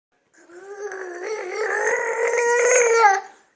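A dog with water in its mouth gives one drawn-out, wavering growl that climbs into a whining, howl-like tone, loud and close, lasting about three seconds.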